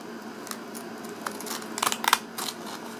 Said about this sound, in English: And then you want to cut off the top. You can use fancy scissors for that.